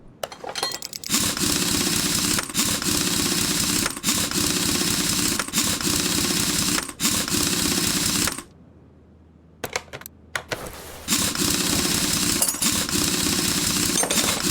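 A rapid, loud mechanical rattle from a power tool fastening a car wheel back on in Car Mechanic Simulator 21 runs in long bursts with brief clicks, pauses for about two seconds, then resumes.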